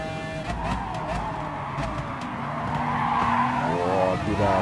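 A McLaren F1 race car in Gran Turismo Sport at the Red Bull Ring skidding, with tires squealing in long wavering tones over a droning engine and a voice speaking underneath.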